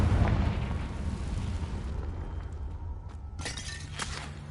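A Confringo fire spell explodes in the game Hogwarts Legacy, a loud roaring blast at the start that rumbles on, followed by a sharp crackling burst near the end.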